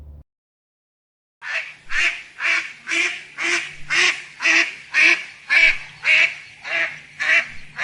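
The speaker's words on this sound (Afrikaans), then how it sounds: "hierdie is 'n eend" A duck quacks over and over in a steady, even rhythm, about a dozen loud nasal calls in a row, close and clear.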